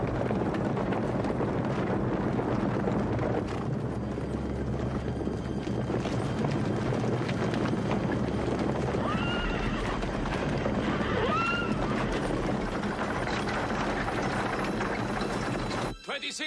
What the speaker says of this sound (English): Australian light horse advancing on eastern defences.